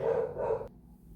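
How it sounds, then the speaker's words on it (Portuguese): A dog barks in a quick burst, fairly faint and somewhat distant, followed by quiet room noise. "O cachorro começou a latir aqui"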